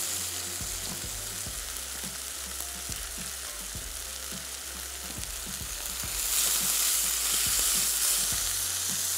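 Beef sizzles and fries in a pan with steady crackling, broken by regular scraping stirs, and the frying swells louder toward the end; no one speaks.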